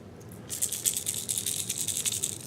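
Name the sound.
rattle of lipless crankbait fishing lure being shaken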